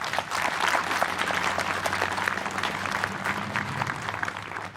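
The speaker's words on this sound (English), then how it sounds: "So I think they definitely need a round of applause for that." An audience at a celebration-of-life gathering applauds, a dense, steady clapping that carries through the whole stretch and fades at the end.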